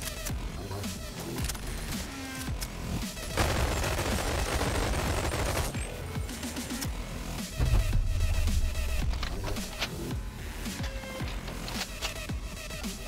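Rapid bursts of video game gunfire in Bonelab, dense automatic firing with heavier blasts in places, loud and continuous with no talking.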